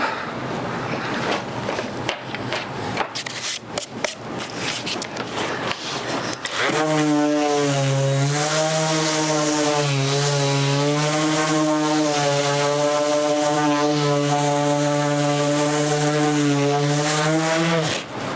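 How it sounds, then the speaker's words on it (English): After a few seconds of clattering handling noise, a power sander starts up on a wooden cabinet shelf and whirs with a loud, steady buzzing drone that wavers slightly in pitch. "So now I'm going to flip it over and grab my sander"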